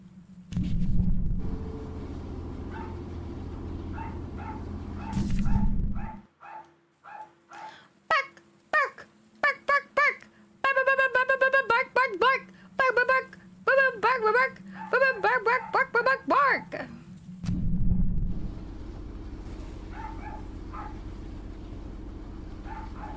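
Dogs in a Choo-Choo Charles game setting bark in rapid runs of sharp yaps, probably at a cat, across the middle of the clip, with a person talking and loud low rumble at the start and end.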